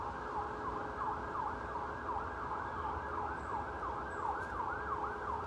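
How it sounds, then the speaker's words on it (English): Police and ambulance sirens wail in the background, a steady, repeating up-and-down sweep that continues throughout over a low traffic rumble, with no talking. "I don't know if you guys can hear the loud police and the ambulance in the background."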